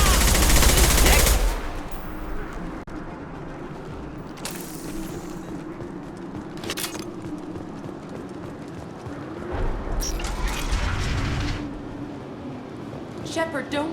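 Gunfire in a sci-fi shooter, Mass Effect Legendary Edition, with a loud burst at the start and another stretch of shots later. Softer bursts and game ambience fill the gaps, and there is no talk.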